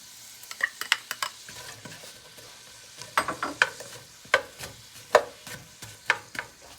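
Onions sautéing in melted butter in a pan, with a soft sizzle and irregular scraping stir strokes close by, louder bursts in the second half, no talking.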